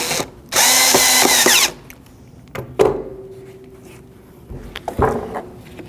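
Power drill tightening headlight mounting bolts on a 2010-2024 Toyota 4Runner: one loud whirring burst of about a second, followed by a few sharp clicks and clunks of parts being handled nearby.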